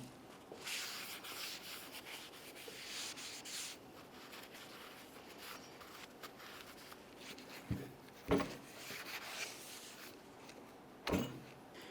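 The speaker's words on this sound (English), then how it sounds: "I'm going to make sure I clean both of the braking surfaces and along inside of the rotor" A brake rotor's braking surfaces on a 2001-2005 Ford Explorer Sport Trac are rubbed clean with quiet, uneven scrubbing strokes, close and faint, broken by a few sharper scraping knocks toward the end.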